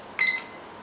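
A kitchen timer in a home kitchen gives a short, bright electronic beep as it starts, heard alone and close.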